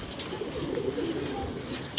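A pigeon coos softly and repeatedly, low and muffled against steady background noise.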